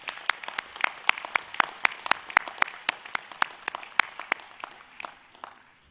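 A university commencement crowd claps in appreciation, a steady patter of applause at moderate distance that swells briefly and then gradually thins out toward the end.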